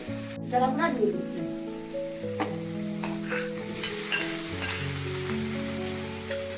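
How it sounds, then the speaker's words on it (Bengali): Dried shrimp tossed into a hot pan and frying, a continuous close sizzle with stirring clatter, under background music and a voice speaking. "এখন আমি চিংড়ি শুক্তিগুলো দিয়ে দিচ্ছি"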